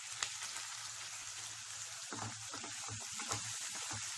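Chopped onions frying in hot oil with cumin, a quiet, steady sizzle with a scatter of soft crackles and a few stirring scrapes, heard alone.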